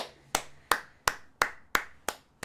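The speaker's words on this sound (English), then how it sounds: "I'm applauding myself." A man clapping his hands for himself, seven sharp, evenly spaced claps close by, each ringing briefly, with no talking.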